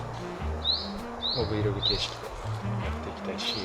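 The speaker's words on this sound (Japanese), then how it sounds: "小鳥が鳴いてる" Small forest birds chirp in a run of quick, bright rising tweets, several in a row and then more near the end, moderately close, while a person talks continuously underneath.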